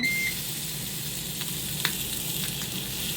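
Chicken thighs laid skin side down searing in a Ninja multi-cooker, a steady bright sizzle throughout with a few faint clicks and pops, close and moderately loud with no talking.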